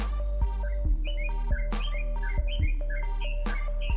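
A yellow-vented bulbul sings alone in a rapid, steady run of bright chirps and whistled notes, close and clear, with short pauses between the phrases and no voices over it.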